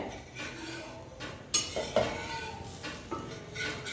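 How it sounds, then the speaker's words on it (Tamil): Bottle gourd adai dosa turned over on a griddle: a spatula scrapes and clinks against the pan several times over a soft, continuous sizzle, close and fairly quiet. "திருப்பி போடுவாங்க தோசையை"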